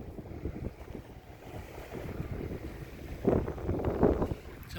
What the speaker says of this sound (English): That wind is blowing pretty good.